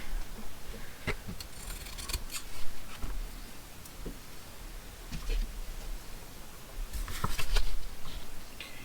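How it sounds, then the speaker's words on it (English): Scissors trim excess paper off the sides of a craft card, giving a series of close, crisp snips and paper rustles at irregular intervals, with no talk. "I'll cut the excess off of the sides here"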